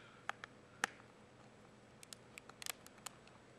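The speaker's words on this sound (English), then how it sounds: "flip over the controller and take out the 7 screws" Faint, sparse clicks and small plastic ticks come from screws being taken out of the back of a guitar controller, with irregular light taps in a quiet room.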